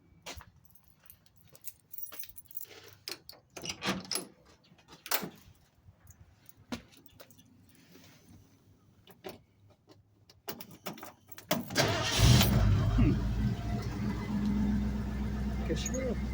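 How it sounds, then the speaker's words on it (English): A 1957 Ford 500 with a carbureted 302 V8 is cold-started at 24 degrees. Faint clicks and knocks come first, then near the end the engine catches and settles into a loud, steady idle. Someone talks briefly. "See if my 57 will crank this morning."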